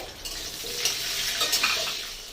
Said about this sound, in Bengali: এখন আমি দিয়ে দেব যে আদা রসুন আর পেঁয়াজটা ছিল সেটা আমি দিয়ে দেবো এর মধ্যে।